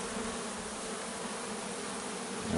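A dense, steady drone of many honeybees buzzing close by around a hive frame, loud and continuous throughout, with no voices.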